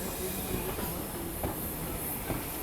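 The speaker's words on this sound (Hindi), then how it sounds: "ट्रेन पहुंच रही है।" A train arriving at Jatinga Lampur railway station on the Barak Valley route during monsoon, with a continuous rumble and hiss of moving carriages and periodic wheel clicks over the rails, steady and fairly close.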